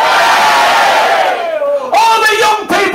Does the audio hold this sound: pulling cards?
no